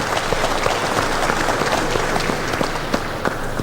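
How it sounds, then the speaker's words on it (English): Sustained applause from a live audience at a Kakamega gubernatorial debate, a thick even wash of many hands clapping throughout, with a few sharper individual claps standing out. "I would love the audience to give them a round of applause for coming"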